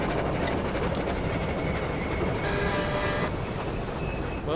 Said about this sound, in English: Yeah, I'm getting off that train.